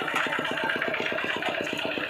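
A tractor engine runs in a field being cleared before planting season, giving a steady, rapid chugging pulse at moderate distance with no voices.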